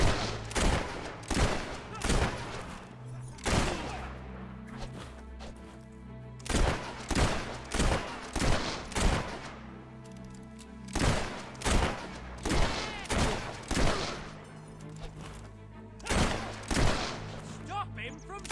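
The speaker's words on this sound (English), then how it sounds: "Stop him from shooting that thing!" Repeated gunfire crackles through a tense shootout, sharp shots arriving in irregular bursts and volleys with brief gaps between them, loud and close, while voices shout over the fighting.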